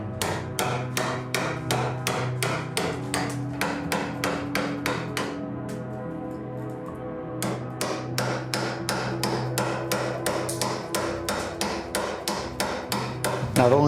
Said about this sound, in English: and then I take a chisel